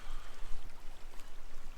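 Waterfall at Indian Falls heard on a woodland hike along an old trail: a continuous broadband rush of falling water, steady and fairly close, with no voices over it.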